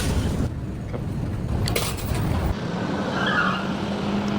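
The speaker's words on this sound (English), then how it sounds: "Wow, they almost just got in a wreck." A car skids with squealing tires in a near crash on a busy Thai street, a loud burst of tire noise over steady engine and traffic rumble that eases off into the general street din.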